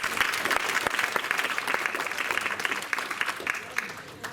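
An audience at a ceremony at the Casino de Sanary claps steadily, a dense patter of hands that fades slightly toward the end, with a faint voice underneath.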